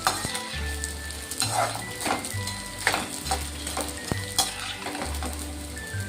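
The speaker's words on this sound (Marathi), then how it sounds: "हे बघा पूर्ण डिंक आपण तळून घेतोय आता" Edible gum frying in ghee for sajuk tup ladoos, a continuous bubbling sizzle with occasional utensil clinks against the pan, steady and close throughout, with no speech.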